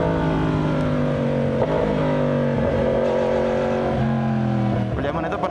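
A Yamaha R1 motorcycle engine with GP shift drones and revs, pitch stepping up and down with each gear change in a loud, steady run.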